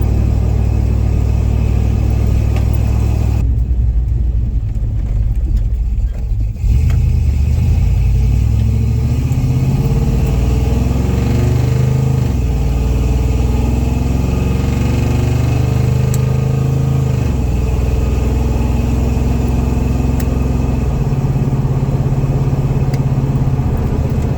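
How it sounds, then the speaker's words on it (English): A hot rod 4x4 truck engine cruising at about 52 mph on a country road in overdrive lockup, giving a steady droning hum heard from inside the cab with a brief dip partway through and no talk. "She's a pleasure to drive now. We're cruising about, I don't know, 52 or so out here in the country"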